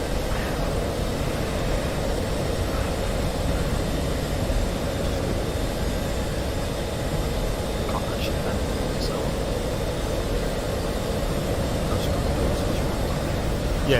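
An F-18 fighter jet dogfighting in the DCS combat flight simulator gives a loud, continuous jet engine roar, a steady broadband rush of air with no breaks.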